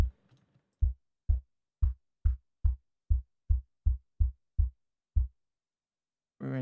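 Synthesized kick drum processed with erosion and wide noise hits in a steady series of about a dozen punchy low thumps with short decays, alone and close, then stops and a brief murmur follows.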